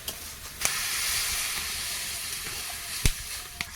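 Water hitting a hot pan of crab and tender Malabar spinach (pui shak), giving a steady loud hiss with a few sharp clinks over it; no talking.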